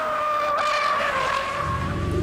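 A BMW X6 Sports Activity Coupe brakes hard on a test drive, giving a steady, loud tire squeal and road rush, heard close and without talking.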